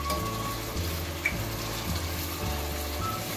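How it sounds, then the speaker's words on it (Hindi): Coriander seeds and cumin roasting in a pot: a steady, close sizzling and crackle with faint stirring scrapes running evenly throughout, no voices. "और मसाले को मैं अच्छी तरह भून लूंगी।"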